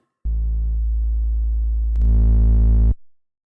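Hardstyle kick made in Logic with an asymmetrical wave shaper distortion in bipolar mode: a single loud, sustained distorted tone that grows harsher and brighter partway through, then cuts off abruptly with a short tail.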